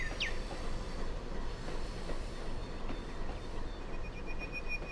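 A train runs through the Appalachia coal fields in the Trainz railway game, with a steady rumble of wheels on track, faint rhythmic clatter and a brief high squeal at the start.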